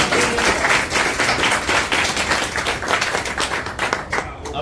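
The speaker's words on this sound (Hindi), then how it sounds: "जोरदार तालियों में स्वागत।" A crowd at a community meeting claps steadily in a thick burst of applause, loud at first and thinning slightly toward the end.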